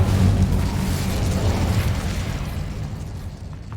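The Incendio fire spell erupts in Hogwarts Legacy as a loud, close whooshing burst of flame that roars at full strength at the start and then slowly fades over several seconds, with nothing else heard.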